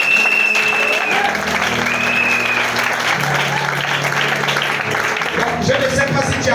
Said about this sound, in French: Est-ce qu'on peut pas acclamer ça?